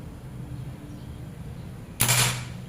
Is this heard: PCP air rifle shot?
yes